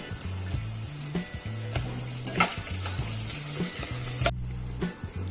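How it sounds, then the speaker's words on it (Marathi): Cabbage and chicken stir-fry with garlic in a hot pan for soup, a steady close sizzle broken by repeated scraping stirs and a few utensil knocks. "लसूण घातल्यानंतर लगेच मी इथे कोबी घातलेला आहे आणि चिकनसुद्धा घालून हे सगळं व्यवस्थित एकत्र दोन मिनटासाठी आपल्याला फक्त फ्राय करायचं आहे"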